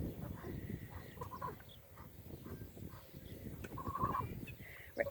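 Soft clucking and gobbling calls from seven Red Ranger broiler chickens and a goose in a small movable grazing pen outdoors, scattered short calls over a steady low background with faint talk.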